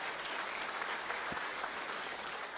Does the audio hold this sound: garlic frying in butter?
no